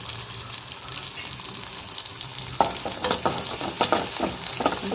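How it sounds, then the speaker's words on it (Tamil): Onions sautéing in a pan for dal rasam crackle with a continuous sizzle; partway through, a run of louder scraping and clattering stirring strokes joins in, with no speech. "இப்போ வெங்காயத்தை நல்லா வதக்கிக்கிறோம்"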